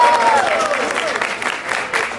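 An audience at a Brazilian street rap battle semifinal claps and cheers in a steady, dense wash of applause, with loud crowd noise throughout.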